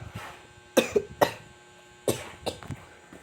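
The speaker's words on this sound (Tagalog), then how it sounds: "Inuubo ako." Several sharp, close coughs come in two short clusters, a few quick hacks each, with quiet breathing between.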